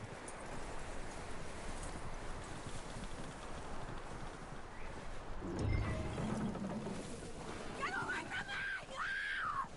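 Horse hooves clip-clopping in the Red Dead Redemption 2 video game, a faint steady patter under wind-like noise, with a thump and then voices and whistle-like calls toward the end.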